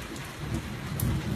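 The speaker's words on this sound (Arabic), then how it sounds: "الآن أمطار رعدية في محافظة ذي قار وتحديدا في مدينة الغراف" Heavy rain during a thunderstorm in Gharraf, Dhi Qar province, Iraq: a dense, steady hiss of downpour with a low rumbling undertone, continuous and fairly loud, no voices.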